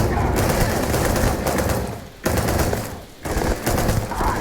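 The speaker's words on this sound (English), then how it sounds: "Let's try a bit more hip firing." Tombstone gun hip-fired in Starfield, sustained rapid bursts of loud gunfire with two brief pauses, dense and close throughout.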